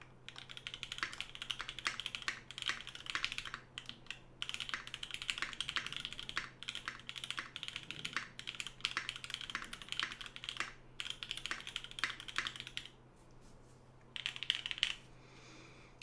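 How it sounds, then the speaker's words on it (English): A mechanical keyboard fitted with GMK Olivia keycaps clatters through a quick typing test: rapid, continuous keystrokes in long bursts separated by brief pauses, close and crisp, with no talking. "Let me do a quick typing test."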